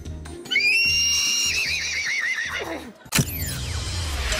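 A man imitates a horse neighing with his voice, a loud whinny with a falling, wavering pitch that lasts about two and a half seconds, followed by a sharp breathy snort and some background noise.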